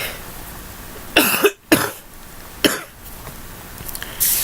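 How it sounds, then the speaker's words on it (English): Several dry coughs from a person with a lingering cough but no cold, close and clear: a pair of bursts near the start, a single cough a second later, then a softer one at the end, with quiet breathing between. "It sounds like I have a cold, and I don't. Just a cough."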